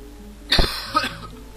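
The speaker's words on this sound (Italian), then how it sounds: "La mia tosse." A man coughs hard once, close and loud, then gives a smaller second cough, against a quiet indoor background.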